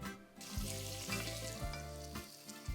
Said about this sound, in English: peel and chop some carrots and add to the sizzling olive oil